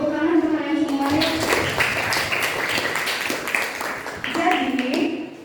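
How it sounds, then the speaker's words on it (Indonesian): Classroom students clapping for themselves, a busy patter of hands under and between a teacher's talking, fairly close and sustained. "Beri tepuk tangan untuk kalian semua ya."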